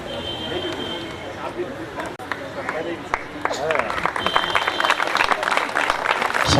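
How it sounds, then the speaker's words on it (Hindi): A crowd applauds at a cricket final ceremony held at DSC Ground, building from scattered clapping into loud, sustained applause, with a voice heard over it. "बहुत जोरदार तालियां"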